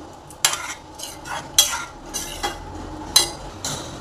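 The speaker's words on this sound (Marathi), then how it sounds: "पनीर टाकलेलं आहे, आपण आता हलवून घेऊयात" Paneer cubes being stirred into palak curry in a pot, a few sharp spoon knocks and scrapes against the metal at irregular intervals over a quiet, faint bubbling background.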